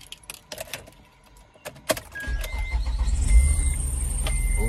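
A 2007 Acura TL cranks and fires up after a few keys jangle and clicks, then settles into a steady idle with a faint whine and light rattle.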